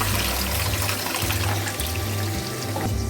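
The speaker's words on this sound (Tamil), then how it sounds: "இப்போ நம்ம கரைச்சி வச்சுருக்கிற புளியை சேர்த்துக்கலாம்." Tamarind water poured into a simmering kachai dry fish gravy, a continuous splashing, bubbling liquid sound close by, steady and fairly loud with no talk.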